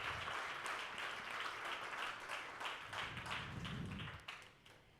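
Steady audience applause fills a pitch event for Make It Utah, Turn and Tanner, dense and continuous clapping that tapers off near the end.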